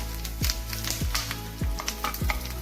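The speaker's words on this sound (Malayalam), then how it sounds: "ഉള്ളി നന്നായിട്ടൊന്ന് മൂത്ത് വരുമ്പോൾ അതിലേക്ക് വറ്റൽമുളക് ചേർത്ത് കൊടുക്കാം കറിവേപ്പില ചേർത്ത് കൊടുക്കാം" Onions, dried red chillies and curry leaves sizzle steadily in a hot pan for Kerala-style coconut chutney, with a low repeated thump about every half second as the mix is stirred.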